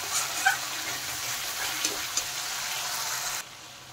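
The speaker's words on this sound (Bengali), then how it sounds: "দিয়ে মশলাটা আরেকটু কষিয়ে নিচ্ছি" Spice paste sautéing in a pan for a duck egg curry, a steady close sizzle with a few soft stirring clicks, cutting to quieter hiss near the end.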